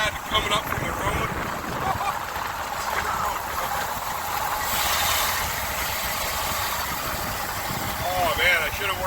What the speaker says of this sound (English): Alright, we got a misfire again.